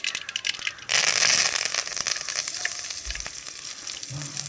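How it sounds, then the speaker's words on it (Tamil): Mustard seeds, curry leaves and coriander hit hot oil for a banana-flower stir-fry, bursting into a loud, dense sizzle with crackling pops, close and steady after a quieter start, no voices. "எண்ணெய் காஞ்சிருச்சு, கடுகு போட்டுக்கலாம். அடுத்து கருவேப்பிலை கொத்தமல்லி போட்டுக்கலாம்."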